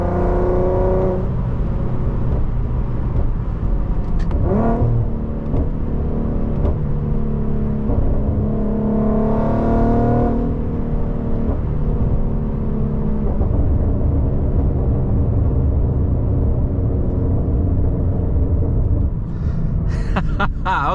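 A tuned 2015 Infiniti Q50 with a 3.7L engine and test pipes, a loud, steady engine drone heard from the cabin, rising in pitch during light throttle taps, with faint voices and no other sounds.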